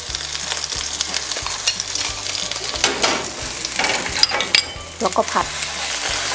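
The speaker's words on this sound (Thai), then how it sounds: "ผัดน้ำพริกก่อนเนาะผัดน้ำพริกให้หอม ให้ไฟอ่อนๆค่ะ" Northern Thai chili paste with pounded fermented soybean stir-fried over low heat in a pan, with steady sizzling and repeated scraping of a spatula, while someone speaks briefly.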